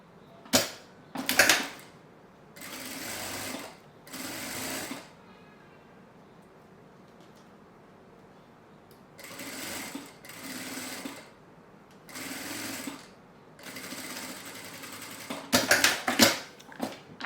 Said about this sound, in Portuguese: vou passar uma costura bem na beiradinha